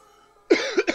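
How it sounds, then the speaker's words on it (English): Two quick, harsh coughs close to the microphone, the second shorter, following a moment of near silence. "I've got coughs today."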